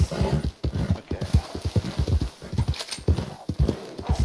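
Rapid hoofbeats of a galloping horse in the video game Red Dead Online pound steadily and loudly throughout, a quick rhythmic clatter with no voices.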